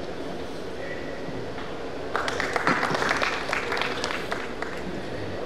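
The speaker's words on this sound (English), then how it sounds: "A round of applause for everybody on the stage." Applause breaks out midway, a burst of clapping from an audience over a low murmur, then tapers off toward the end.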